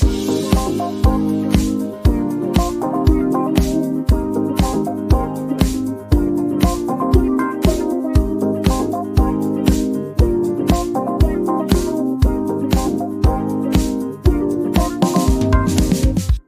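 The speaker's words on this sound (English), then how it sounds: "I've added another keyboard lick section from Arcade" A bright keyboard lick from a software instrument plays rhythmic, repeating chords over a steady beat, full and upfront, continuing for about sixteen seconds with no voices.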